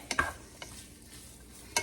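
Pre-cooked sausage browns in a pan over medium-high heat with a faint, steady sizzle, broken by a few soft clicks and taps of a utensil near the start and end.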